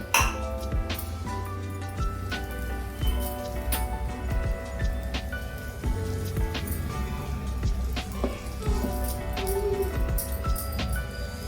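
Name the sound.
green gram uttapam sizzling in ghee on a pan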